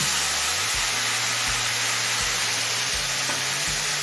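Spices with turmeric frying on a high flame for matar dal, a loud continuous hiss and sizzle with a few soft stirring knocks, close and without talk.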